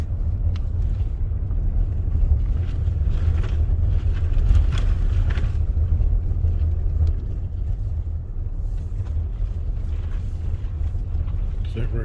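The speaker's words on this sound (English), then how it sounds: "We're driving on our way out now." A car drives a canyon road in Capitol Reef National Park, Utah, with a steady, loud, low rumble of engine and tires from inside the vehicle.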